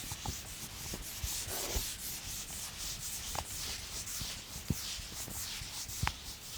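Rubbing out writing on a classroom board during a maths lesson: continuous scrubbing and wiping strokes with occasional light knocks, fairly close and steady throughout.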